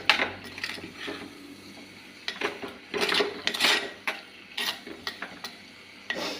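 Prawn curry being stirred in a pot, with repeated scraping strokes of a spoon against the metal over a soft sizzle, coming in irregular bursts close by.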